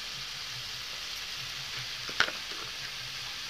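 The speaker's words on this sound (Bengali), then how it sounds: "এখন এটাকে লাড়াচাড়া করে টমাটোরটাকে একটু ভাজিয়ে নেব।" Chopped tomatoes with salt and spices frying in a pan for a mustard shol fish curry, a constant close hiss of sizzling oil with a couple of soft scrapes and one sharp clink of the spatula.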